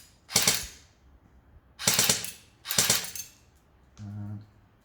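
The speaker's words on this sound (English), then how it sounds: "The slightly unnerving thing is the sound of the gearbox for every shot." An airsoft gun gearbox fires three sharp, loud mechanical shots at irregular intervals on a shooting range, followed by a short buzzing whir.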